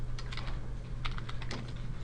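Close, quiet typing on a computer keyboard, a quick irregular run of soft key clicks over a low background hum, with no voices.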